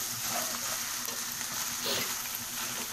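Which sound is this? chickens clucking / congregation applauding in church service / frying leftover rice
frying leftover rice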